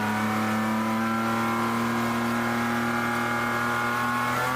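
On-board engine of a race car during a World Racing League endurance race at Barber Motorsports Park, a loud, steady, even drone held at constant revs.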